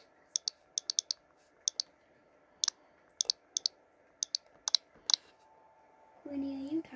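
Sharp, light keyboard clicks tap out in quick irregular bursts, close and crisp, followed by a voice speaking briefly at the end.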